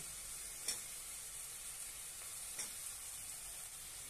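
Eggplant sizzles in a pan of hot oil, a faint, steady frying hiss broken by a couple of soft stirring scrapes.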